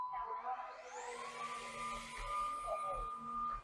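Eureka cordless wet dry vacuum and mop combo switching on, its motor whirring up to a steady faint hum with a rising high whine, over quiet background noise.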